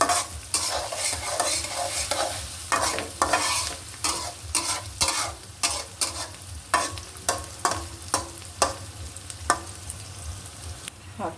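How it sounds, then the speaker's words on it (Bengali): Onion and chili fry in a hot pan with a steady sizzle, broken by repeated scraping stirs that sharpen into a regular rhythm of spatula strokes toward the end, close and with no talking. "পেঁয়াজটা মরিচ আমি মানে একটু ভেজে নেব তাহলে ফ্লেভার আসবে"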